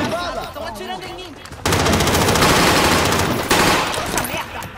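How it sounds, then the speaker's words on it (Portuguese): Loud bursts of rapid gunfire and machine-gun fire erupt in Call of Duty on the Fortune's Keep map, with a person speaking briefly before the shooting takes over. "Estão atirando em mim."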